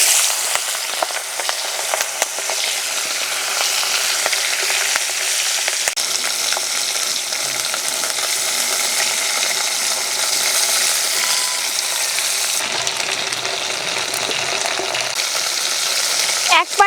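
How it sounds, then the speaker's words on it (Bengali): Prawns coated in salt and turmeric sizzle in hot, smoking oil in a pan, a bright, continuous frying crackle that holds steady throughout, with a brief shift near the end as the pieces settle. "এবার দিয়ে দেব নুন হলুদ মাখানো মাছ"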